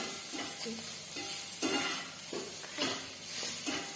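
Brinjal masala sautés in a pan over a low flame, a quiet sizzle broken by several soft scraping strokes of a spatula, with no one talking.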